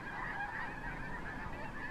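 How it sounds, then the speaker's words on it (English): A large flock of snow geese, about a thousand birds, honks continuously with overlapping calls at a steady, moderately distant level and no voices. "what those snow geese on the other side are doing"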